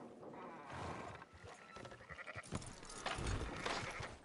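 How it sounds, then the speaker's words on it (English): Sheep in the video game Red Dead Redemption 2 bleat in short bursts alongside a low rustling and shuffling of livestock, soft and fairly near, with no talking over them. "Fine sheep."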